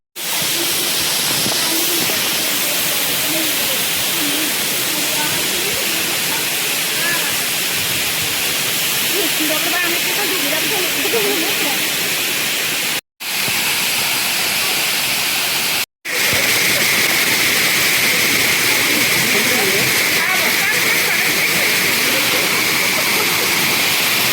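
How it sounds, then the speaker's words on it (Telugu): The Dharapalli waterfall roars in a loud, continuous rush of falling water that fills the scene without letup. "ఇలా వాటర్ ఫాల్స్, జలపాతాలు చూడండి"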